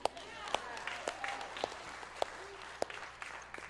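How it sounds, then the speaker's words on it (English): An audience at a church gathering claps faintly, with scattered individual sharp claps standing out over a soft, thin patter rather than a full ovation. "you can applaud Keenan"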